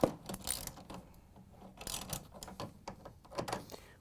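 A socket wrench tightens a bolt on a refrigerator's adjustable door hinge, giving scattered close metallic clicks and ratcheting bursts with brief pauses between them, and no talking.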